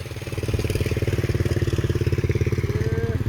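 A small single-cylinder walking tractor engine chugs steadily up close, a loud rapid rhythmic putter with clattering mechanical noise throughout.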